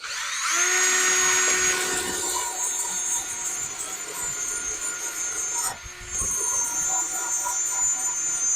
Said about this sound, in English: what if we used a wire wheel on a drill